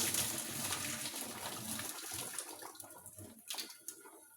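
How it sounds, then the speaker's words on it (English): Cod fish soup poured through a sieve, a steady close splashing gush of liquid that gradually thins into lighter trickles and drips, with no voices. "Then we need to sieve out everything. So we sieve it out."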